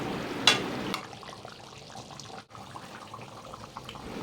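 Hot water poured into a pot of simmering desi mutton curry, a soft continuous watery rush with a brief louder splash near the start, close by and with no voices.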